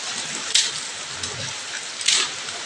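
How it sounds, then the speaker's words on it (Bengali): Heavy morning rain falls in a storm, a steady close patter on surfaces with two brief louder splashes or gusts; no one speaks. "সকালবেলা বৃষ্টি আরম্ভ হয়ে গিয়েছে, দেখো কি বৃষ্টি করছে।"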